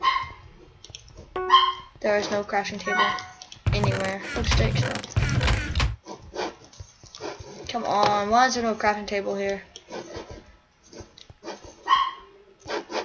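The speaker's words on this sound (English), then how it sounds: "Oh my god, my dog is so annoying." A pet dog barks repeatedly in a home, sharp barks near and loud, breaking in around the middle of the clip while a person talks over a Minecraft game with clicking in the background.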